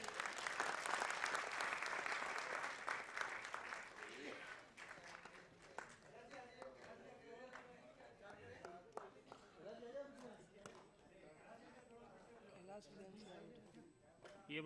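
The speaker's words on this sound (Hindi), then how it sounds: "एक बार तालियां बजाएं।" Applause from guests at a film launch ceremony, a burst of crowd clapping for the first few seconds that quickly thins out under overlapping talk and background chatter.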